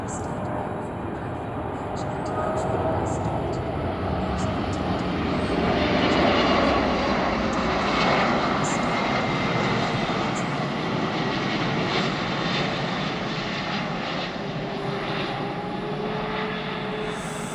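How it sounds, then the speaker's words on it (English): A propeller airplane flies over Marston Green, a loud broad engine drone that swells and holds steady for the whole stretch, heard alone. "I could tell that plane from a mile off just by the sound."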